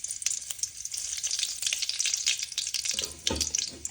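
Cumin and mustard seeds crackle and sizzle in hot oil in a wok, a steady bright hiss with scattered pops, louder bursts near the end and a faint clink of stirring, with no one talking.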